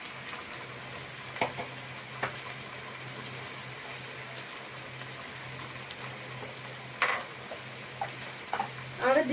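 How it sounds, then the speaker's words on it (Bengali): Beef curry spices fry in a pan with a steady, soft sizzle, broken by occasional scrapes and clinks of stirring, plus a louder clatter near the end. "এখন ভালোভাবে নাড়াচাড়া করে দিতে হবে যাতে মশলা পুড়ে না যায়।"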